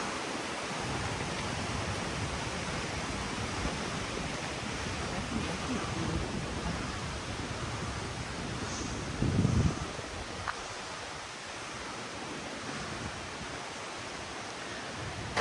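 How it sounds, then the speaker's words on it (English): Waterfall rapids rush down toward the lakes at Killarney in lush green countryside, a steady, soft broadband roar of flowing water heard from some distance, with a brief low thump midway and no voices. "beautiful rapids of the waterfall heading down towards the lakes"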